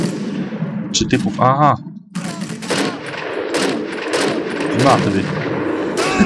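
Gunfire in a sniper video game during a raid mission, with bursts of automatic machine-gun fire and single shots cracking close and loud, broken by brief gaps while players talk over the action.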